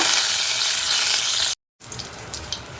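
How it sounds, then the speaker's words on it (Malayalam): Spluttered mustard seeds, two dried red chillies and curry leaves fry in hot oil with a loud, dense sizzle. The sizzle breaks off briefly, then returns with scattered crackles and pops. "കടുക് പൊട്ടി വന്നിട്ടുണ്ട് രണ്ട് വറ്റൽമുളക് കുറച്ച് കറിവേപ്പില"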